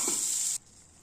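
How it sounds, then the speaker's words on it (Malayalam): Mango pieces for pickle drop into hot oil with Kashmiri chili powder, giving a loud, bright sizzle for about half a second before it abruptly falls to a faint hiss. "അപ്പോൾ ഇത് നന്നായി ചൂടായി കഴിഞ്ഞാൽ അതിലേക്ക് നമ്മുടെ മാങ്ങ കൂടി ചേർത്ത് കൊടുക്കാം"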